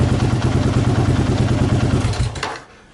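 A Kawasaki KLR 650 single-cylinder motorcycle with a Mikuni carburettor idles close by in a loud, even, pulsing thump, then a quick throttle crack near the end before the engine note drops away.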